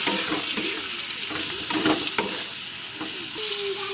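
Tomato, chilli powder, salt and turmeric frying in a pan for tarka dal, a steady close sizzle with occasional stirring scrapes, no talking.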